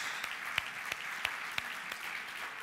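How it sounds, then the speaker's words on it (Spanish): Applause at a church service heard from a distance, with clapping that falls into a steady, rhythmic beat, fairly quiet and without voices. "Denle un aplauso porque somos en Cristo vivificados."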